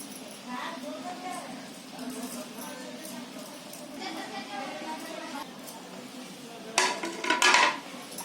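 Grated potato, chopped coriander and chilli mixed in a bowl for an easy homemade fasting recipe, steady soft scraping and stirring with occasional clinks of a utensil against the dish, closer clattering near the end, a voice speaking over it.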